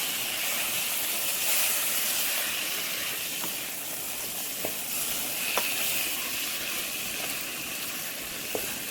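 Boiled chickpeas (channa) stirred in a hot pot, a continuous steamy hiss and sizzle with a few faint scraping taps of the spoon, no talking.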